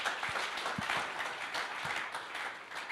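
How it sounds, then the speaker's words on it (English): An audience at a DeSci Berlin session applauds a presenter after a talk on designing a DAO, a soft, steady patter of clapping with a few louder claps, heard faintly and somewhat distant. "An applause for Rafa, please, and for this presentation."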